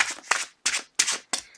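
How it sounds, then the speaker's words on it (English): Tarot cards are shuffled by hand in five quick, crisp riffling bursts separated by short pauses, close and clear with no talking. "Last shuffle"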